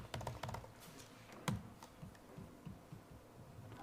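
Typing on a computer keyboard, quiet clusters of close keystrokes in uneven bursts, busiest at the start, with one sharper tap and a few scattered softer clicks after.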